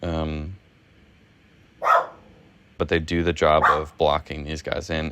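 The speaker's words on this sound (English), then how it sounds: "That's my dog." A pet dog named Puddle lets out one sharp bark between stretches of someone talking, close and loud against the quiet gap in his speech.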